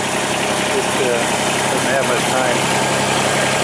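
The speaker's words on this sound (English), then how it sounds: "the tractor is running great" A Kubota BX24D compact tractor with 274 hours on it runs at a steady, loud, even engine drone while someone talks over it.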